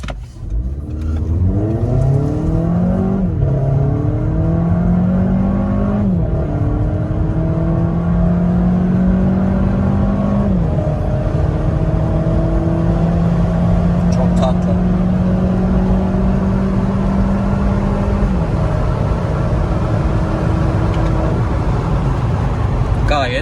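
A stock 2011 Audi A3 1.4 TFSI with 125 PS and 18-inch wheels accelerates hard through several gears, its engine note climbing and dropping at each shift before settling into a sustained cruise.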